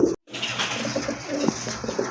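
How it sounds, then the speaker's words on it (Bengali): Pigeons for sale coo in soft, repeated low throaty calls, close by, after a brief cut, with no talking. "খুবই অ্যাক্টিভ ফ্রেশ কবুতর"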